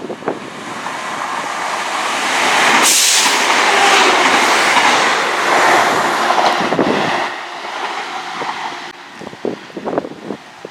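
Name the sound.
Sheffield passenger train passing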